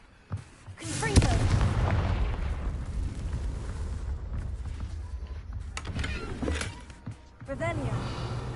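Confringo blasting spell explosion in a Hogwarts video game: a sudden loud blast followed by sustained roaring rumble, with further sharp bursts near the end.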